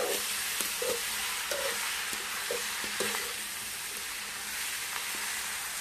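Squid frying in a pan, giving a steady loud sizzle and hiss throughout, with occasional light stirring clinks and scrapes. No one speaks.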